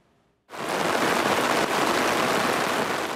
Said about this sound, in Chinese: 雨水落伫暂温水库内面，